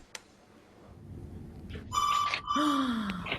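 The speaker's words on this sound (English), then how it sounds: "When the phone rings" A telephone rings twice in a quiet room, each ring a short bright electronic trill starting about two seconds in, clear and fairly close, with no one speaking.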